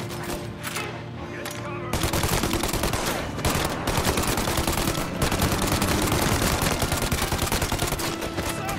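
Dense gunfire from the video game Mafia: Definitive Edition, with rapid machine-gun bursts and overlapping shots forming a loud, continuous fusillade for several seconds, mixed with occasional game sounds.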